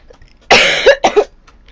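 A girl coughs close by, two harsh bursts in quick succession after a moment of quiet.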